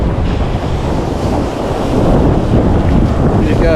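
Ocean surf rolls onto a North Carolina beach with a steady roar of breaking waves, heavily mixed with loud wind buffeting the microphone, and no voices come through clearly.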